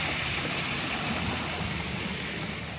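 Water from a swimming pool spills into a backyard pond at a home near Los Angeles, giving a steady, close rushing splash with no talk over it.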